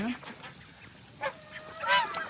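Peking duck honking loudly at close range, a few sharp nasal calls rising above the steady background, with one strong honk near the end.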